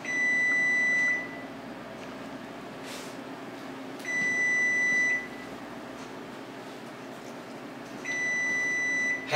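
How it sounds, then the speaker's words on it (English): A kitchen oven timer sounds three loud, steady electronic beeps, each about a second long and spaced roughly three seconds apart, set for baking cookies, with no one speaking. "I now hear the timer beeping, so it's time to get the cookies out of the oven"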